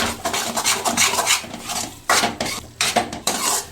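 A utensil scrapes and stirs crumbled paneer with kasuri methi in a pan while it roasts, giving rhythmic rasping strokes and metallic scrapes in uneven bursts, close and fairly loud, with no talking.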